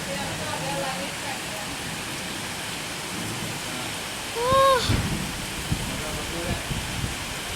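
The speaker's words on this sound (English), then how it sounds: "It's raining so hard." Heavy rain pours down in Malaysia as a dense, steady hiss that fills the whole stretch, with a brief spoken exclamation cutting in near the middle.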